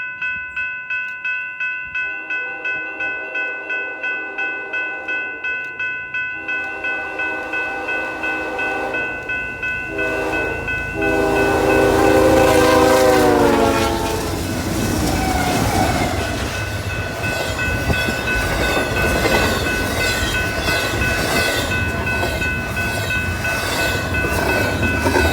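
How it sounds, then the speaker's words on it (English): BNSF freight locomotive 6232 leads a westbound intermodal train past East Galesburg, Illinois, its horn sounding loudly in sustained blasts before the heavy rumble and clattering wagons roll steadily by up close. "We start off our video in East Galesburg with BNSF 6232 leading a westbound intermodal"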